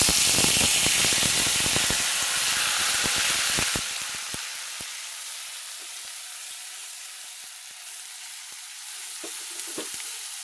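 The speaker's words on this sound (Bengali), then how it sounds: "তো দিয়ে দিচ্ছি আদা, রসুন, পেঁয়াজ" Ginger, garlic and onion drop into hot oil already holding fried curry leaves and biryani masala for chicken biryani, giving a loud, dense sizzle with crackling pops that settles into a steadier, quieter fry with scattered clicks of stirring.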